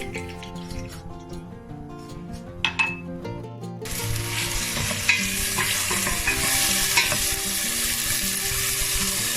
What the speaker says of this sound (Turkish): soğanımızı ve yeşil biberimizi doğrayıp sıvı yağımızda kavuracağız